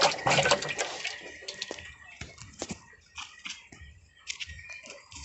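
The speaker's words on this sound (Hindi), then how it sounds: "पानी को हिला देना" Water in a fish pond in Bihar is stirred by hand, giving close, irregular sloshing and splashing bursts that come and go.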